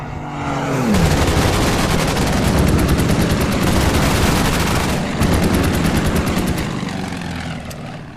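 Gunfire in the wartime strategy game Order of Battle: Winter War, a dense, continuous roar of rapid automatic shots with engine drone, loud and sustained throughout with a brief dip midway.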